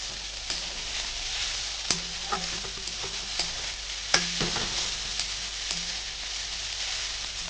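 Potatoes fry in hot oil with cumin, dried red chillies and green chillies, a steady close sizzle broken by scattered clicks and scrapes of stirring, with no talking.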